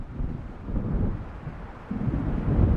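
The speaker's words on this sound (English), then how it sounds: "It seems there's a storm coming." Low rumbling thunder of an approaching storm in Alan Wake, a dull distant roll with wind-like noise, swelling again toward the end, no talk.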